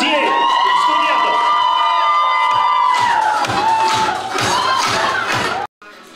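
A crowd of students at an outdoor youth festival with a team quest cheers and shouts loudly and continuously, with voices rising in bursts before cutting off abruptly near the end.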